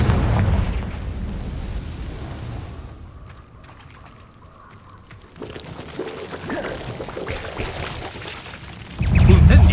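Confringo explosion spell cast in Hogwarts Legacy: a booming blast with a crackling burst and rumbling tail, loud at first, easing into quieter debris and ambience before another heavy impact near the end.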